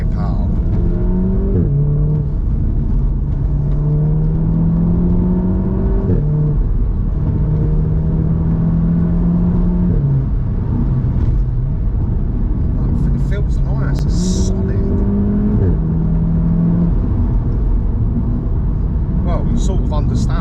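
A Volkswagen Golf R Mk7.5 accelerates hard from inside the cabin, its engine note climbing through repeated gear-by-gear surges, loud and steady, while occupants talk over it.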